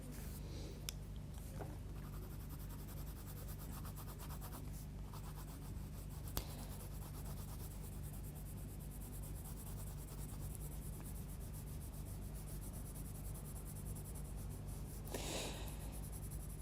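A pencil tip drawing on paper, working with fine strokes: a steady, dry scratching and rubbing texture that goes on throughout, close and fairly quiet, with a few sharper scrapes.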